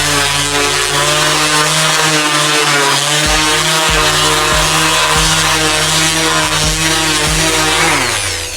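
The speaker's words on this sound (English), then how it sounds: "we're gonna take the DA with the 180 grit pad, and that should clean up the hard lines." A DA sander with a 180 grit pad smoothing a steel roll cage tube for a Civic, a loud, close, continuous whine with pitch dips as pressure on the workpiece changes.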